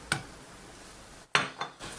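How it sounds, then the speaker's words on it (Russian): Olive oil is mixed into a bowl of food: a spoon clinks against the bowl in a few distinct, fairly close knocks separated by quiet stretches. "А теперь я долью немножко оливкового масла."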